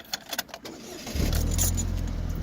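A car engine cranks and catches at about one second, then settles into a steady, loud idle after a few light clicks and rattles of keys beforehand.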